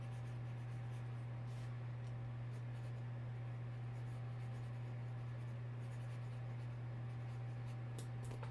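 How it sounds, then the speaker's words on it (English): Soft, close scratching of a pen jotting notes by hand on paper, faint strokes coming in small bursts over a steady low electrical hum. "I'm writing these down."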